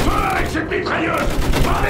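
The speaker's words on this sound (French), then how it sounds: "Avec cette mitrailleuse!" Machine gun fire and battle noise in Battlefield 1 come as a dense, loud clatter of shots with booms blended in, heavy and continuous for under two seconds.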